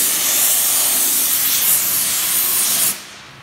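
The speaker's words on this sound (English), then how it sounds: "I like to use a little bit of compressed air to ensure that it's dry" A short, steady blast of compressed air hisses as it dries a freshly worked car taillight during a Nite Shade tint job. The hiss is close and continuous, then cuts off abruptly near the end.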